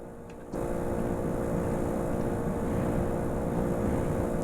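Loud, steady car engine drone from The Long Drive, heard in third person, kicking in sharply after a brief quiet start and holding a constant roar throughout.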